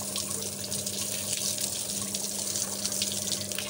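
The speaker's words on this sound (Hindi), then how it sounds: "और साथ में इधर टब के अंदर जो है पानी भरते हैं" Tap water pours steadily into a tub in a home laundry area, a constant close hiss and splash with no pauses.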